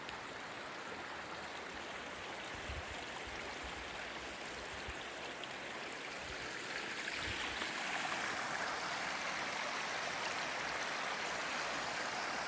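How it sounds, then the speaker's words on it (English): Steady rushing of a flowing stream at Bertha Lower Falls, continuous and close, with a broad watery hiss and no voices. "I like the sound of the water."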